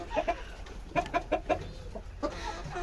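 Brahma chickens clucking on a farm, a series of short rhythmic clucks in two bursts, close and moderately loud over faint background noise.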